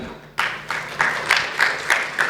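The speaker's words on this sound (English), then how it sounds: "Can I have a big round of applause for CA Sanjay Gagrani?" An audience at a transfer pricing seminar claps for CA Sanjay Gagrani, starting abruptly after a brief quiet and continuing as a moderately loud, rhythmic group ovation with accented beats, no voices over it.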